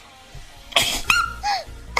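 A single sneeze bursts out about three-quarters of a second in, followed by short sharp breathy vocal sounds and a quick high squeak, close and fairly loud in a quiet room.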